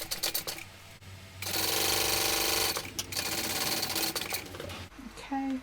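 Sewing machine stitching fabric seams on a small quilt piece in bursts, a fast steady mechanical whir running for over a second at full speed, with short stops and restarts and a voice talking softly around it.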